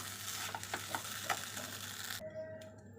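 Rice stirred in a pot for pulao, a faint sizzling scrape with a few soft ladle taps near, then cutting off abruptly into quiet with a low hum.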